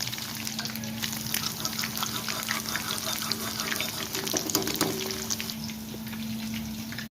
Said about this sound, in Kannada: ಭಾಳ ಫ್ರೈ ಮಾಡ್ಕೊಳೋದು ಬೇಡ, ಮೀಡಿಯಮ್ ಆಗಿರಬೇಕು.